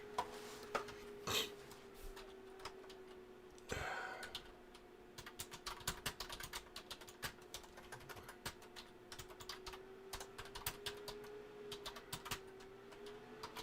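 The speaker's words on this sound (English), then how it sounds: "I got to type this in here" A computer keyboard clatters with quick, light clicks in irregular runs, fairly faint and close, over a steady low electrical hum.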